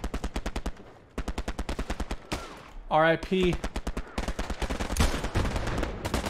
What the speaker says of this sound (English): The explosion after I shot was a little bit too much.